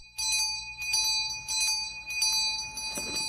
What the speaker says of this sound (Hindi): घंटी की आवाज